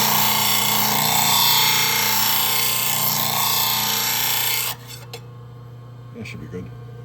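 Plane blade held against a spinning grinding wheel for a hollow grind, a loud, steady rasping hiss that runs continuously for several seconds before the blade is lifted off, leaving quieter clicks and handling noises.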